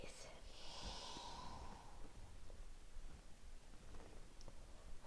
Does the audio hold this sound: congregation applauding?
no